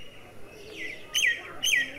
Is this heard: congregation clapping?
no